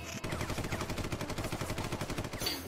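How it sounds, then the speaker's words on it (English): Rapid automatic gunfire from Spawn's guns in an animated Death Battle fight, a dense rattling burst of shots that runs continuously for a couple of seconds, loud and close. "Immediately using his guns."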